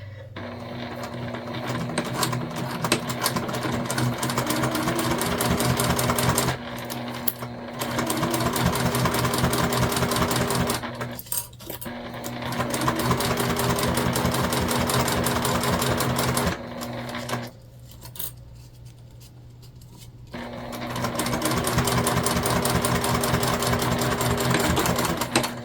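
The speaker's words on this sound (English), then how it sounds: "We'll go ahead and sew this on." Sewing machine stitching the seams of a fabric Explorer sling bag, a steady continuous motor hum and rapid needle rattle running in long bursts with short pauses between seams, close and loud with no talking.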